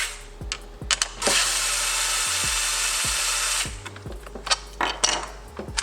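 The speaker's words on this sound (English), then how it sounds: "you're going to take the 8mm socket, and you're going to pop off the reflector" An 8mm socket on a ratchet loosens the rear reflector on a 2024 Triumph Speed 400 during a fender eliminator install, giving short close clicking pawl bursts, then a sustained loud whirring stretch, then more intermittent clicks.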